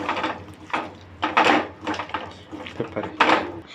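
A spoon scrapes and knocks against a pot while salt is stirred into chicken, a series of irregular clinks and scrapes at close range, with no talk.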